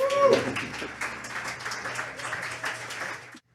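Applause from an audience at an evening spoken-word and love-themed show, a steady patter of clapping with a brief tonal sound at the start, fairly distant and even before cutting off.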